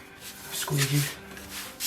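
A squeegee rubs across metallic heat transfer vinyl, giving a short, close scraping swipe that swells and fades within about two seconds.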